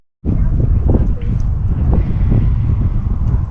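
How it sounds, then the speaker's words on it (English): Steady wind buffets the microphone with a loud, rough low rumble that starts abruptly and continues throughout, with gusty fluctuations. "It's not super windy, but it is blowing."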